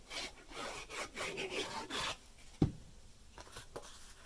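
Paper being rubbed and pressed down onto a card during papercraft, a soft close rasping and brushing in short strokes, quiet overall, with one sharp tap partway through.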